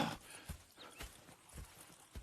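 Horse hooves clip-clop in a slow walking rhythm, several distinct thuds close by, from horses in the Western video game Red Dead Redemption, with a faint whinny in the mix.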